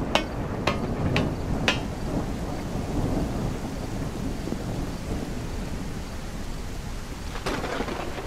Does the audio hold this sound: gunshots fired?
no